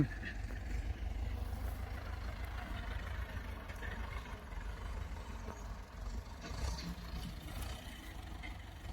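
A tractor engine runs steadily while clearing banana plants and levelling the raised paddy-field banks into farmland, a low continuous rumble heard from a moderate distance with no talking over it.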